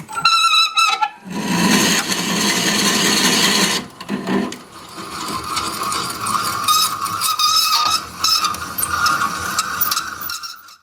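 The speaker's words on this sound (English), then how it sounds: "I've added my extension, and this is probably going to squeal for a minute." Drill bit on an extension boring into a log for a wood-turned vase, a loud continuous rasping grind with shrill squealing overtones, interrupted briefly then resuming steadily, close up.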